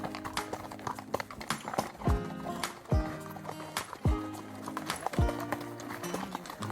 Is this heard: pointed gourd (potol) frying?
no